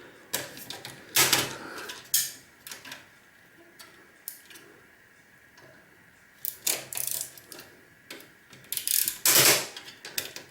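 Tight screws are worked loose inside an old IBM computer, giving sharp metallic clicks and ratcheting scrapes in uneven bursts separated by quiet pauses, close by and moderately loud.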